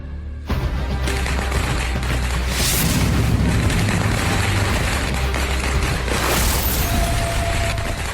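Firecrackers burst in a loud, continuous barrage of booms and crackling pops, dense and rumbling with a few sharper cracks standing out, close and without any talk.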